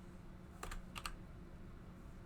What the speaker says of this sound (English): instead of typing volume status, we can also type vol stat